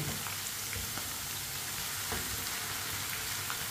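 Potatoes frying in a pan for aloo karela, with a steady close sizzle and a few faint scrapes as a spoon stirs them, no voices.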